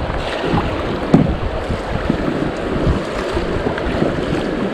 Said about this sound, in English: Some decent little rapids, probably a class one, maybe a small class two.